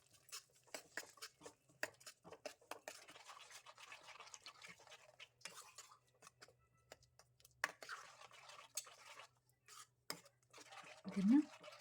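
Spoon stirring tomato gojju mixed with roasted cumin powder and salt in a pan, soft irregular scraping and clinking at low volume with brief pauses and a louder clink near the end.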